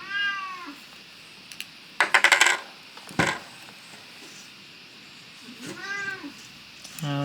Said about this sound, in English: it sounds like my friend the cat has woken up